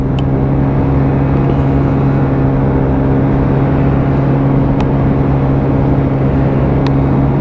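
Steady, loud drone of a Lexmoto Echo 50cc scooter engine held at high revs, with a constant low hum and strong harmonics running unbroken throughout, close and alone with no talk.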